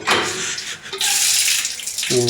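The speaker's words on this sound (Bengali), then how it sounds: "এইভাবেই ধুতে হবে গাজরগুলো। এই যে এভাবে ধুয়ে নেবো।" Carrots fresh from the field are rinsed under running water, a steady rushing splash from a tap that briefly dips before resuming, close and fairly loud.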